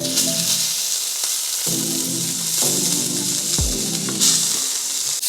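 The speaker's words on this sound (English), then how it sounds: "Now take your patty, place it on a pan." A burger patty sizzles loudly in a pan of cooking oil, a continuous bright hiss with occasional knocks and scrapes from handling close by.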